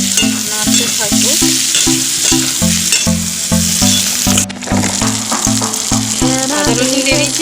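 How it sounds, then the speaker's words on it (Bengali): Onion, tomato, ginger and garlic frying in a pan while stirred, a loud, continuous sizzle under repeated utensil scrapes against the pan, with music playing throughout. "আদা রসুন দিয়ে দিয়েছি, পেঁয়াজটা ভাজা ভাজা হয়ে গেছে আর টমেটোটা ভেজে গেছে"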